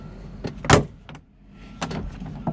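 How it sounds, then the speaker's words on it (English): A solid thump of a Goggomobil limousine's car door closing, close and loud, followed by a few softer knocks and rustles. "I'm gonna close my door"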